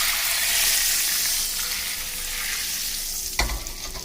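Butter sizzles loudly in a pan while a spoon stirs it for chop suey with imitation crab meat, a steady hiss broken by a sharp scrape near the end.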